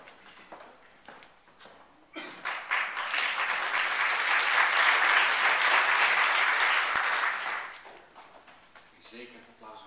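Audience applause at an education conference, swelling suddenly after scattered claps and holding loud and dense for about five seconds before fading, with a speaker's voice around it.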